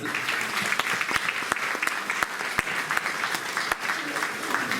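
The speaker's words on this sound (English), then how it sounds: "Let's give a big round of applause." Audience at a board meeting clapping in a steady round of applause during recognitions, moderately loud, with sharper individual claps standing out from the crowd.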